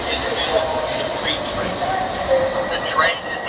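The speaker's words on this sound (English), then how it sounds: "The train is departing." New York City subway train on the Lexington Avenue line departing a station, a steady broadband rumble and rail noise with faint squeals, close and continuous throughout.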